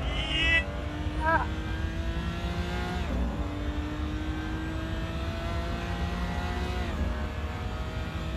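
Race car engine in the video game Assetto Corsa on the Nordschleife drones steadily, with pitch climbing through the gears and dipping at shifts around three and seven seconds, accompanied by tire and wind noise.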